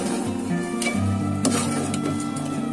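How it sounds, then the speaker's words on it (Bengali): Rice being stirred and fried dry in a pan over a gas stove, a steady close sizzle with scraping and stirring strokes running throughout. "এবার আমি চালগুলো ভালো করে নেড়ে চেড়ে একদম ভাজা ভাজা করে ফেলব"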